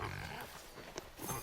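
Pigs grunting and snorting in a zoo enclosure in the park-building game Planet Zoo, a few short close calls over a faint background hum, no talk.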